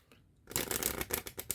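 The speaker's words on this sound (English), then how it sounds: "Use the shuffle." A deck of playing cards being shuffled up close, a quick riffle of crisp fluttering snaps that starts after a short quiet pause and runs in bursts to the end.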